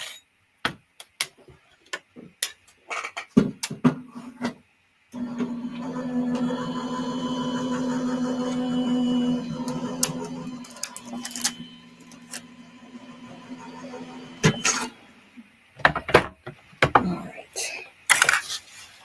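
A card-making machine runs for about five seconds with a rhythmic mechanical cranking whir, framed by sharp clicks and handling knocks as card stock is slid through.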